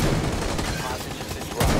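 Gunfire in Rainbow Six Siege, a muffled stretch of shots in the game followed by a sharp, louder report near the end, with a voice over part of it.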